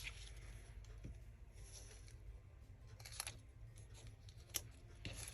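Scissors cut paper for making Bible verse cards, faint close snips and rustles at an irregular pace, with a few sharper clicks standing out in the quiet.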